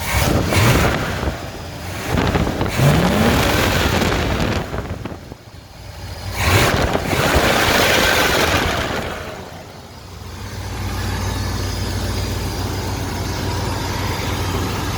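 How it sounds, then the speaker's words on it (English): A warmed-up vehicle engine is revved several times, the loud surges rising and falling before it settles into a steady idle. "now that she's warmed up a little, let's rev her"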